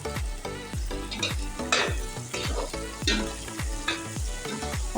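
Potatoes are stirred into softened onions frying in a pan for aloo korma, a continuous sizzle broken by a regular rhythm of spoon scrapes and tumbling pieces, close and with no voice.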